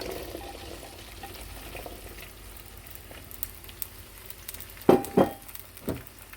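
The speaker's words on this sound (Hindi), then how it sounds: "अब ऑयल गर्म हो चुका है तो हम इसमें भिंडी ऐड कर देंगे" Okra (bhindi) tipped into hot oil: a quiet background sizzle, then two loud bursts of frying hiss as the pieces hit the oil, with a smaller burst after, no speech.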